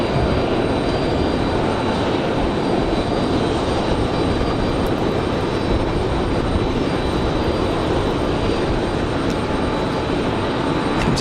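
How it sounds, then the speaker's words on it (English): A Delta CRJ regional jet roars steadily and loudly at Raleigh-Durham International Airport, a continuous broadband engine rumble that holds without letup. "Comes our Delta CRJ"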